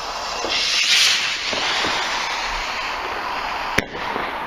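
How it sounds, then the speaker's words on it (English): Fireworks going off on bonfire night outdoors in the UK, heard as a steady hissing, crackling roar with a few soft pops and one sharp bang near the end. "We're standing here with fireworks now all together."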